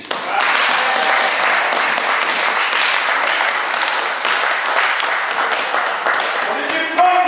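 A church congregation breaks into loud, sustained applause acclaiming Jesus during a sermon, steady clapping filling the room for several seconds.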